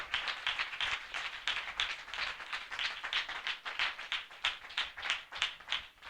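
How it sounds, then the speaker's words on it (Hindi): A church congregation at a spiritual passion assembly claps steadily in a fairly even rhythm, the crisp hand slaps coming moderately loud and close together with no voices over them. "हम जोरदार तालियों से उनका स्वागत करें।"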